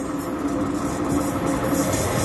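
A train rolls past at Milan station with a steady rumbling roar and faint rhythmic clatter of wheels, no voices.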